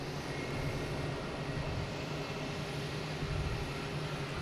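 A JetBlue airliner's jet engines hum at Boston Logan airport, a steady, moderately distant roar with a faint high whine running unbroken throughout.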